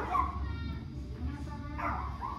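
Dogs bark and yip from rooftops in the Tepito neighbourhood of Mexico City, moderately distant over street noise, with people talking nearby.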